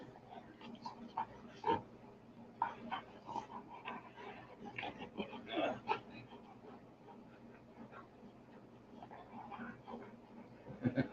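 A big young Great Pyrenees-type dog pants and whimpers nearby, its soft breathy huffs and whines coming in irregular bursts under quiet background noise, with a person speaking intermittently.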